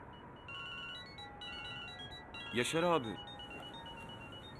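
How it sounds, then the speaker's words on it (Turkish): A repeating electronic phone ring trills in the background, with a brief voice calling out briefly over it near the middle. "Telefonun çalıyor."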